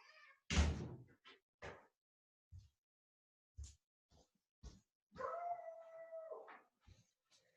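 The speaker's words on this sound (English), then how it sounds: "I'm just gonna let my dog out." Dog howling as it is let out a door: short knocks and thumps, then a drawn-out tonal howl of about a second and a half, close and fairly loud in a quiet room.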